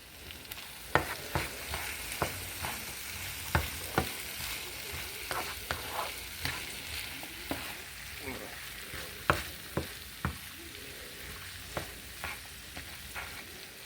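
Hamburger and onion mixture for sweet chili fries in a pan with a steady broadband sizzle, punctuated by irregular sharp scrapes and clinks of stirring throughout, close and moderately loud with no talking.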